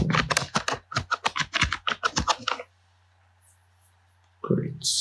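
Rapid clacking keystrokes on a computer keyboard as HTML code is typed, a dense run of clicks for a couple of seconds, then quiet before a voice starts.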